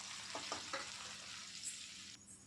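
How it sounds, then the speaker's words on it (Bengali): Chopped onion gently frying in a pan with a bay leaf and five-spice seeds, a steady close hiss with a few soft stirring scrapes, no talk. "একটা বড় সাইজের পেঁয়াজ কুচি পেঁয়াজটা হালকা করে ভেজে নেবো"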